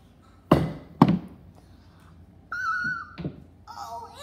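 Pool balls are struck in a backwards no-look trick shot: two sharp, close clacks land about half a second apart, and then come some brief tonal sounds in a quiet room.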